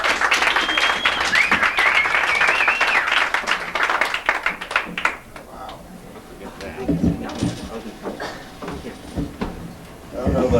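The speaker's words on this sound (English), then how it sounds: "let's have a big fat round of applause" Applause rises for Tony Fitzpatrick at Milly's Orchid Show, loud clapping up front that fades into scattered claps and room noise with voices talking underneath.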